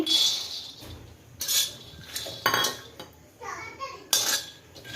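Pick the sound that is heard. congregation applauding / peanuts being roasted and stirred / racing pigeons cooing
peanuts being roasted and stirred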